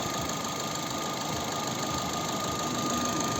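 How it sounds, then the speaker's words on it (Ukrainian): A 2010 Opel Zafira facelift's 1.8 petrol engine idles steadily with an even, continuous hum, heard alone at moderate volume. "Робота двигуна."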